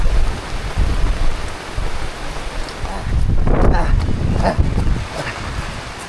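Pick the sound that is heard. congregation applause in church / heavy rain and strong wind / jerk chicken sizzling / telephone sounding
heavy rain and strong wind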